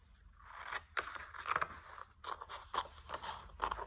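Scissors snipping out a paper shape for a children's craft, a series of soft close crunching cuts at an uneven pace, quiet and without speech.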